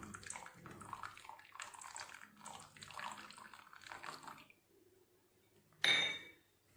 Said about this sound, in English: Now I am adding lime juice.